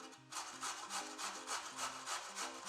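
Rhythmic rasping strokes of pumpkin being grated on a grater, about four scrapes per second, close and soft with a faint background tone.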